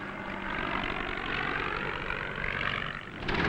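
An old WWI Spad biplane flies by, its engine giving a steady droning propeller buzz that holds through the pass and swells louder near the end, with no voices over it.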